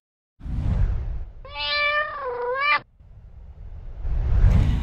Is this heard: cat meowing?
yes